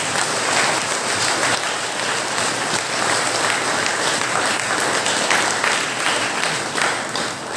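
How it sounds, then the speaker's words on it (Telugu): A church congregation claps hands together during a Christ the King feast service, a dense, loud, sustained wash of applause from many people, steady from start to finish with no speech. "చప్పట్లు కొడుతూ దేవుని స్తుతిస్తాము."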